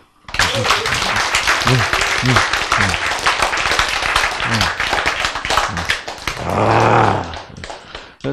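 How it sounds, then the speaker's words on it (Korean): Loud, close clapping from a small gathering at a spiritual talk, sharp irregular claps in a quick rhythm that run nearly the whole time, with a swell of voices and cheering near the end. "박수!"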